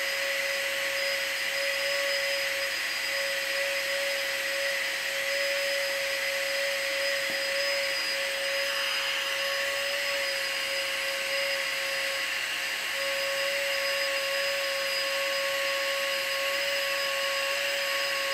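A Nitecore AP10 rechargeable inflator runs steadily with a loud, constant motor whine and airy rush, unbroken and close for the whole stretch.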